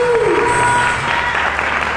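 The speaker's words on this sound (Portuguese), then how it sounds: "levante as suas mãos e aplauda o Senhor Jesus" A church congregation applauds in a dense, steady wash of clapping, with a voice speaking briefly over the start.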